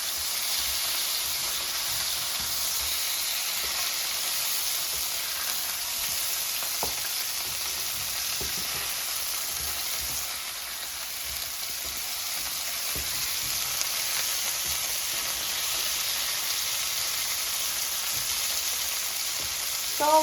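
Smelt fish frying in hot oil in a pan, a steady loud dense sizzle and crackle running throughout with no pauses and no talking.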